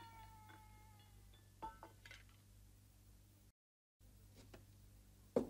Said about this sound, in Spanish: Oh, se ha colado el gato.